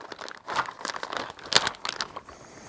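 A plastic bag holding a kilogram of 3D-printed PET-G parts crinkles and rustles up close as it is opened, a steady run of crackling with one sharper crunch midway.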